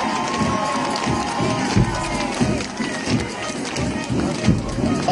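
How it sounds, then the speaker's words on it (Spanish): A crowd at a school anniversary ceremony for colegio Jorge Chávez applauds and cheers steadily throughout, a dense continuous wash of clapping and shouting with rhythmic bursts, while an announcer's voice carries over the top. "Fuerte el aplauso para el colegio Jorge Chávez."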